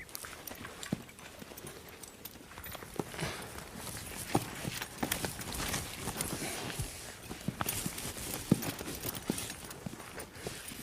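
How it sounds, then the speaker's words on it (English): Several horses corralled around a young stallion shuffle and step with scattered, irregular hoof clops on the ground, close by, with faint background noise and no clear speech. "Brian has corralled several other horses."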